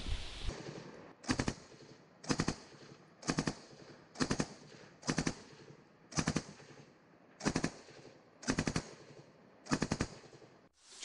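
Heavy artillery fire in repeated short bursts, about nine of them at steady intervals, sharp and loud against a quiet outdoor background, in wartime Ukraine near the Siverskyi Donets river.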